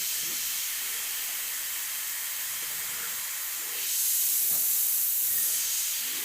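Steady airbrush hiss of paint spraying onto a clock skeleton artwork, continuous and close, growing louder and brighter near the end as the trigger is pulled further back.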